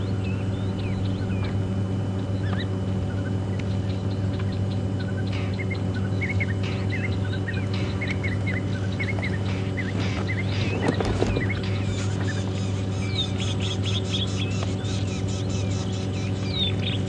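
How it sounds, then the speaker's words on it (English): Several birds chirp and call in scattered bursts over a steady background hum in the bush at Djuma Game Reserve, with a brief louder rustle midway. "beautiful, just listening to all the bird sounds."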